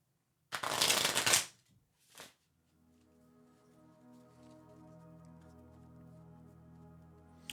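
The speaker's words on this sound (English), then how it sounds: "I do the shuffling over here." A deck of tarot cards being shuffled close by: a loud riffle of about a second, a short second burst, then quiet handling noise over a faint hum.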